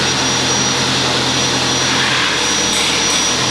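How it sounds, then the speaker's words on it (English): A garden vac blower runs steadily at full power near a concrete shed-floor job, a loud continuous whooshing roar blowing dust, with no talking. "I brought over my garden vac blower because they were sweeping dust around"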